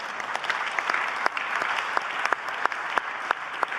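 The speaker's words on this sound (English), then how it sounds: "I think that deserves a round of applause indeed." Audience applause at the Ukraine Recovery Conference 2024, a steady dense patter of many hands clapping throughout, moderately loud with sharp individual claps standing out.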